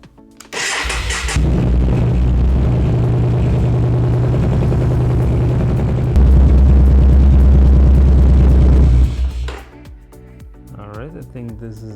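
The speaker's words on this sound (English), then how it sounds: "Alright, let's start the bike." A Yamaha Bolt motorcycle engine cranks and fires after a second, then settles into a loud, steady idle with a rise in pitch partway through before shutting off, close to the bike.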